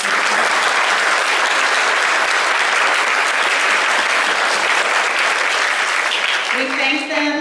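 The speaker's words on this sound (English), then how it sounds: "Let's give them a round of applause" Sustained audience applause fills a middle school 8th grade awards ceremony, a dense steady roar of many hands clapping throughout, easing slightly at the very end.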